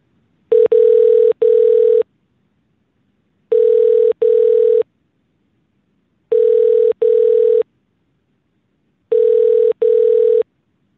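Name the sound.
telephone ringing tone while call is put through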